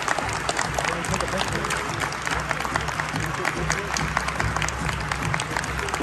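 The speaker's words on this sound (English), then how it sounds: "let's give them a round of applause" An audience applauds for five presidents in a steady, dense patter of clapping that runs the whole time, with voices mixed into it.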